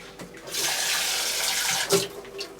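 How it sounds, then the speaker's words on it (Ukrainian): Water pours steadily into a small pot over about 200 grams of millet, a continuous close splashing rush lasting a couple of seconds with a brief surge near the end. "І заливаємо води так, щоб його покрити зверху."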